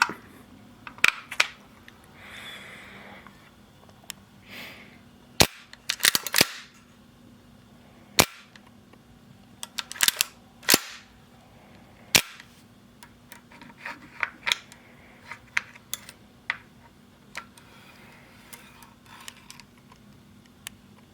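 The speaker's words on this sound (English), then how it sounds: "I'm just going to take off the dust cover. To do that, you just push this button at the back and lift." Removing the dust cover from a TM AKM gas blowback airsoft rifle produces a string of sharp metallic clicks, snaps and scraping handling noises, close and irregular, with no talk.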